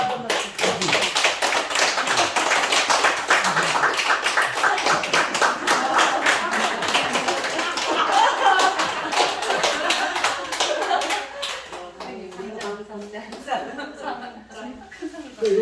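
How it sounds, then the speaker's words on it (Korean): A small group claps loudly and steadily at a home house-warming worship service, dense hand claps running for several seconds before thinning out, with talking and light chuckles underneath. "박수 크게 치세요"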